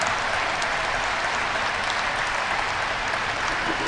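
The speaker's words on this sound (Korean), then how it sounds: "함께 하신 모든 분들을 위한 감사와 환영의 박수를 보내주시면 고맙겠습니다" An assembled congregation at a worship service gives a welcoming round of applause, a dense, loud and even wall of many hands clapping that fills the whole stretch without pause.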